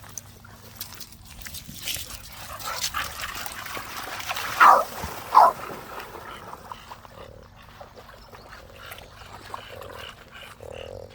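Dogs outdoors near a waterside with swans and ducks give two short, fairly loud barks in quick succession over a soft background trickle of water.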